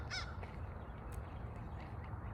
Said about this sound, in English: I hope y'all can hear the crow.